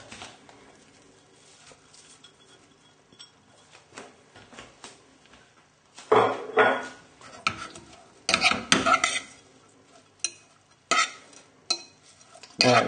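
Chopped coriander is tipped into fluffed grains and stirred with a spoon, served alongside lamb with sweet chilli sauce. A quiet start gives way to intermittent clattering bursts of utensil scraping against the pot, close up.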